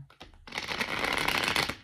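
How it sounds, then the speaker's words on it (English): A deck of tarot cards being shuffled by hand, a short riffling flutter that starts with a few taps and then turns into a dense, papery rush lasting over a second, close and alone. "Let's do one more shuffle."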